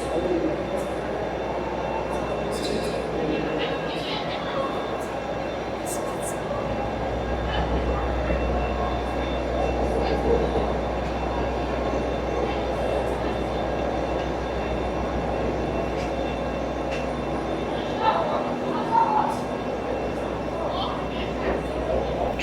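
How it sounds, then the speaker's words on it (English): An old diesel locomotive rumbles steadily at Edinburgh Waverley station, low engine drone with occasional metallic clanks and faint squeals, people speaking now and then over it. "an old diesel locomotive not in standard livery"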